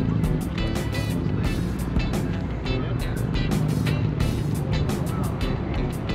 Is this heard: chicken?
no